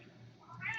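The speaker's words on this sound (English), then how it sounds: "and that's my cat meowing." A pet cat meows once, a short rising call that swells toward the end, heard fairly close in a quiet indoor room with low background hum.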